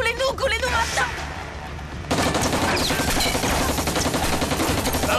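Bursts of automatic weapon fire crackle loudly in rapid, dense strings, first mixed with shouting voices, then a continuous heavy volley that fills the rest of the moment.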